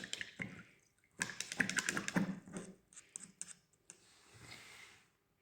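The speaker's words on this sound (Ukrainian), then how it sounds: "Миємо пензлик." A paintbrush being rinsed in a small jar of water: close bursts of quick clicking taps and light splashes against the container, separated by brief quiet pauses, with no talking.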